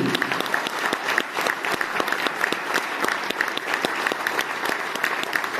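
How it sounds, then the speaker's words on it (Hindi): Audience applause at a patriotic Hindi poetry recital, a dense, steady burst of many hands clapping close and loud throughout, with no voices over it. "उठाइए तालियां तो होगी"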